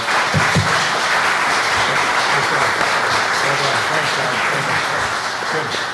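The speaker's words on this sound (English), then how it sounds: "Let's all give them a round of applause." Sustained audience applause for panelists at an agricultural town hall on wildlife and agriculture, a steady dense wash of clapping throughout with faint voices underneath.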